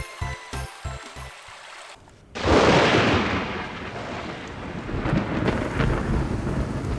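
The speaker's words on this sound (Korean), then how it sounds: "섬진강에 비가 내리기 시작합니다." Heavy rain and rumbling thunder over the Seomjin River during the monsoon season. A loud burst of downpour breaks in and keeps pouring with deep rolling thunder, after a quieter stretch with rhythmic knocking.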